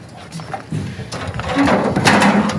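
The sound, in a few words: RV entry steps being pulled out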